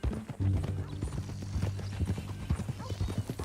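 Horse hooves in Red Dead Redemption 2, a steady, close clip-clop beating in an even rhythm throughout, with voices talking over the riding.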